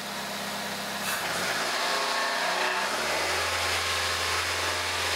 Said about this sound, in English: So I'm going to rev my engine up.